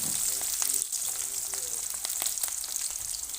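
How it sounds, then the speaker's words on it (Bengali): Chopped onion and chili frying in hot oil in a pan for a spicy fish curry, giving a steady, loud, close sizzle with crackling pops throughout and no talk. "তো এই যে আমি কেটে রাখা পেঁয়াজ আর মরিচটা কড়াইতে দিয়ে দিলাম।"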